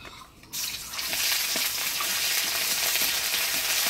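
Ginger paste drops into hot oil already tempered with dried red chillies and black cumin, bursting into a loud, bright sizzle after a quiet half-second and then holding a dense, continuous crackle.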